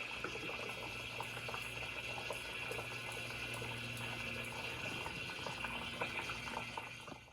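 Engine oil drains from a SeaDoo Spark 900 ACE Rotax engine in a steady bubbling, gurgling stream, close and continuous with a low hum beneath.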